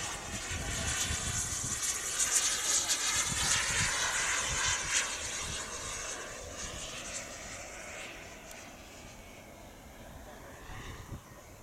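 A Freewing 80mm F14 RC jet model with a K45G3 turbine flies past, its broad high whine and roar fairly steady and loud before gradually fading, with faint voices in the background.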